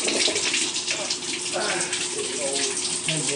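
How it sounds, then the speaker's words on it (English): Toilet being flushed during cleaning, a loud close rush of water streaming and gurgling continuously for a few seconds. "give a little flush, it's so good."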